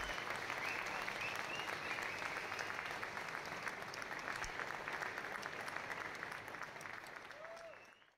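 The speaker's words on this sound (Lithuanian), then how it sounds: "Po jos kalbos žmonės plojo salei atsistoję." Standing ovation from a conference hall audience at Bitcoin Amsterdam, a continuous wash of many hands clapping, steady and fairly distant, tapering off at the close.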